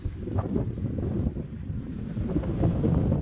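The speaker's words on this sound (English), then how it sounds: "a bit windy up here" Steady, loud wind buffeting the microphone on the summit of Elliott Knob, with a low rumbling roar, gusting slightly throughout and no voices.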